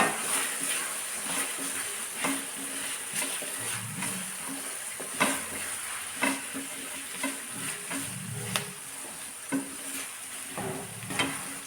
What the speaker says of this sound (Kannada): ಇದಕ್ಕೆ ನಾನು ಈಗ ತೆಂಗಿನ ತುರಿ ಮತ್ತು ಸ್ವಲ್ಪ ಅರಿಶಿನ ಹಿಟ್ಟನ್ನು ಹಾಕೊತೀನಿ ಈಗ ಇದನ್ನು ಸ್ವಲ್ಪ ಫ್ರೈ ಮಾಡಬೇಕು